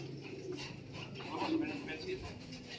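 Racing pigeons arriving at a loft during a club pooling race, soft cooing and fluttering under steady nearby talk, with a few brief louder bursts midway.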